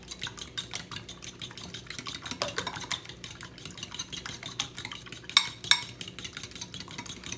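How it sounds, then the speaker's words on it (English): Eggs being scrambled with a fork in a bowl, a rapid run of close, light tapping clicks and scrapes of metal against the bowl, steady and even with a couple of sharper knocks near the end. "we're just gonna scramble it using a fork"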